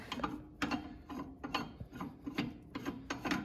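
A clutch puller tool being threaded into the clutch of a 2019 Polaris RZR XP 1000 gives a steady run of close, rhythmic metallic ratcheting clicks.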